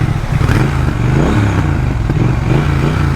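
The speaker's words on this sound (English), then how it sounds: "I love the grunt of the exhaust as well." A motorcycle fitted with aftermarket exhaust revs nearby with a deep, rumbling, loud and steady throb, heard alone.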